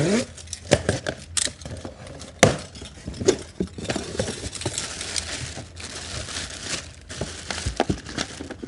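Cardboard box for a Go Go Endurance AL+ portable lithium mobility scooter being cut open, with close, irregular scraping, tearing and crinkling bursts and a few sharp snaps spread through the stretch.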